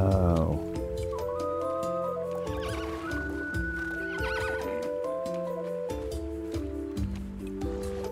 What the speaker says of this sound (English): Okay, the horse is pretty happy.